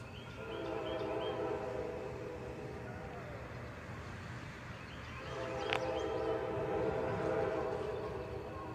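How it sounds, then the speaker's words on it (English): A freight train led by GP40-2 locomotives sounds a K5LA horn at a crossing on Canal Road. The horn gives long, loud, sustained chords with a short break, over the steady rumble of the passing train. "There's the horn."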